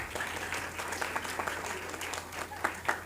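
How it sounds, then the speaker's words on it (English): An audience at a college debate competition applauds a debate team, a steady wash of close clapping with a few sharper individual claps standing out near the end. "Round of applause for them."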